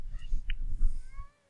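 A Minecraft cat meows in a short, close, fairly loud burst of warbling cries lasting about a second before falling silent.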